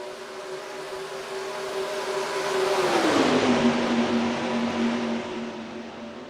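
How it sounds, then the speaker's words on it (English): IndyCar race cars in the NR2003 racing game at Chicagoland: a steady, high engine whine that rises in loudness and then drops in pitch as a car passes, with a dense, continuous roar underneath. "Green flag in the air, we're racing at Chicagoland."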